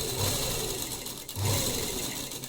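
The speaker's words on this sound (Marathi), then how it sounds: "हे पहा, अशा प्रकारे आणि शिलाई मारून घ्यायची." A sewing machine runs in two close, steady bursts with a brief pause between, stitching a folded fabric heart for a decorative latkan.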